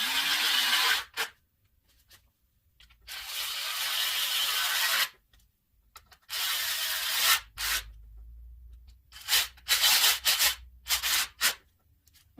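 Spark plugs being threaded down by hand into a 3.5L engine on a 2008–2009 Ford Taurus, giving a close scraping, rubbing sound in several bursts separated by silent pauses, with shorter ratchet-like bursts near the end.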